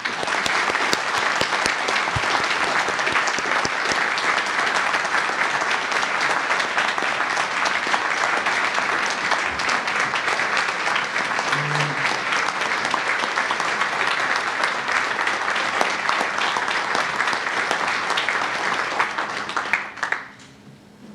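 Conference audience at a medical society's annual meeting applauds an award recipient, loud sustained clapping filling the room for about twenty seconds before fading abruptly at the end.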